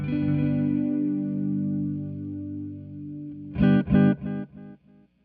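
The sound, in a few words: Time Dilation V5 delays drifting in pitch and tailing off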